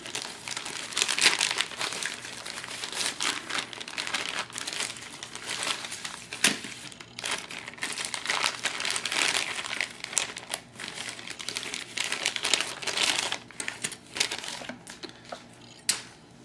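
Plastic parts bag for a Rotormast side frame crinkling and crackling steadily as it is handled and opened up close, with sharp rustles and a few louder snaps, no talking.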